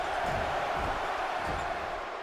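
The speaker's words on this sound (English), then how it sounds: "AWL crowd politely chanting along." A wrestling crowd at an AWL show chants along in a steady, even roar that fills the whole stretch without a break.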